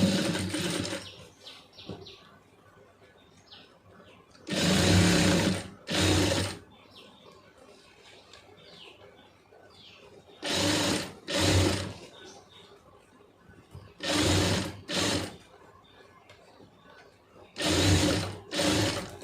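A sewing machine stitches thick cloth in several loud, buzzing bursts of one to two seconds each, with quieter gaps of handling and faint background sounds between runs.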